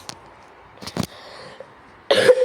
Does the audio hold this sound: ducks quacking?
no